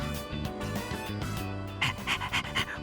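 A stray dog in the video game Persona 3 Reload pants in quick, steady breaths, close and loud, with faint whimpering toward the end and no talking.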